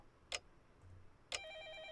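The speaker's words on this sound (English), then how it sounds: "The ringing just reaches my ears from elsewhere in the house." A telephone rings somewhere elsewhere in a house in a visual novel game. Two short bursts come about a second apart, and a sustained electronic tone follows the second one, all fairly faint and distant.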